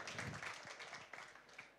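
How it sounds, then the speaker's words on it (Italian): Audience applause for Giuseppe Fiorini at a Siracusa coffee show competition, a faint, distant patter of clapping lasting a couple of seconds. "un applauso subito così a freddo"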